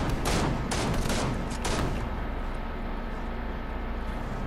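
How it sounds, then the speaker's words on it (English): Gunfire in a Fortnite Zero Build match: several sharp, loud shots burst in quick succession over the first two seconds, then give way to a steady wash of game noise. "We got gunfire off to the left."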